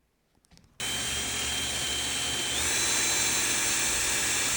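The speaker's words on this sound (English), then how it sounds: "I always start with a small drill bit to use as a pilot hole, and I drill from the front of the door into the back" A power drill bores a small pilot hole through a wooden door, starting abruptly after a few faint handling knocks, then running as a loud, steady high-pitched whine that builds slightly as the bit bites through.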